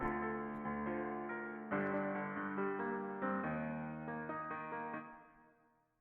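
A song for a fighting game, with sustained chords carrying small melodies moving inside them, changing every second or so before fading out near the end, quiet and without any voices.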